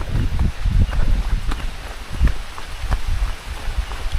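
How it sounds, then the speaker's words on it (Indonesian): Heavy rain pours down outdoors, a dense steady hiss with low thumping gusts and spatters, loud and close, with no voices over it. "Deres, guys."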